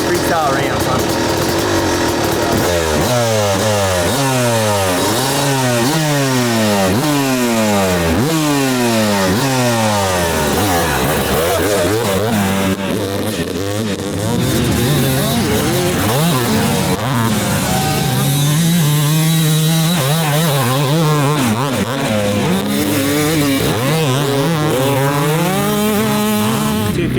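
A Yamaha YZ250 two-stroke dirt bike engine revs up and down over and over, its loud buzzing pitch sweeping in repeated climbs and drops close to the listener.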